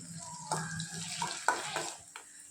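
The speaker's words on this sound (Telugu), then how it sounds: "ప్యాన్ తీసుకొని వన్ టేబుల్ స్పూన్ ఆయిల్ వేసుకోవాలండి కొన్ని ఆనియన్ ముక్కలు వేసుకుందాం" Onion pieces frying in a tablespoon of oil in a pan, with a faint sizzle and a few soft stirring scrapes, quiet and close.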